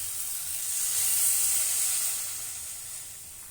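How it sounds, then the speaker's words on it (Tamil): Water poured into a hot pan of mutton kola urundai curry gives a steady, fairly quiet hiss and sizzle that swells, then slowly fades, with no voices. "தண்ணி ஊற்றிக்கிறேன்"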